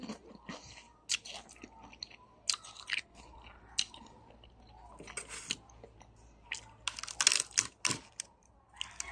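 Crispy cassava chips crunched while eating, sharp irregular bites and crackling chews in scattered bursts, close and fairly quiet, with no talk.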